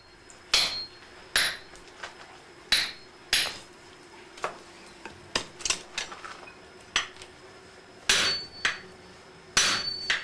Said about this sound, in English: The stage is now set for the smith to sever the steel from its tekogane handle.